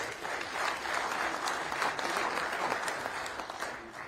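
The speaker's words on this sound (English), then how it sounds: "Give yourselves a big round of applause." Steady audience applause at a 100 Black Men of America conference panel, a soft, evenly sustained patter of many hands heard from some distance for about four seconds.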